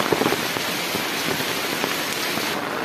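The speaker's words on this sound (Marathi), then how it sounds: "जोराचा पाऊस" Heavy monsoon rain pours down in a Konkan village near Rajapur, a dense, steady hiss of drops striking surfaces close by with occasional louder splats, no voices.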